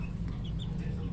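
Breeding hens at a poultry yard give soft, low clucks under steady farm background noise, a brief murmuring stretch without distinct loud calls.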